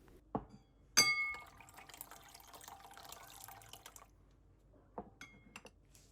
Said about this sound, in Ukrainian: Беремо тарілку та виливаємо туди воду з банок.